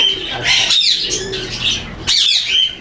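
Blue ringneck parrots at a parrot farm let out loud, harsh squawks close by, two bursts of shrill calls separated by a short lull, with no speech.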